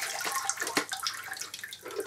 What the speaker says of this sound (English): Let the water drain.